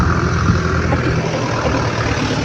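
A car going by on a road, a steady, loud engine rumble close by throughout, with no talk.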